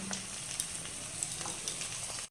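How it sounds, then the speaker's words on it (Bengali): Spice powders of Kashmiri chilli, cumin, red chilli and turmeric fry in hot oil, giving a soft continuous sizzle with a few faint clinks, quiet and brief. "ভালো করে মশলাটা কষে নেব"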